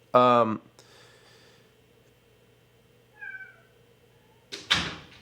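A cat gives a loud, close meow at the start, followed by quiet sounds and a faint brief tone, then a short rustle.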